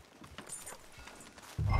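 Horse hooves clip-clop in Red Dead Redemption 2, a soft, fairly slow walking rhythm at moderate distance, ending in a sudden louder low rumble.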